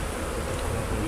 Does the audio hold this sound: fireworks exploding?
no